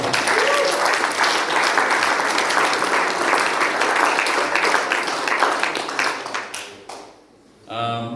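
Audience at a ham radio contest meeting giving a sustained round of applause that fades out near the end, followed by a brief pause before a sound resumes.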